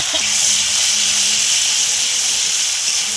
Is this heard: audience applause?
no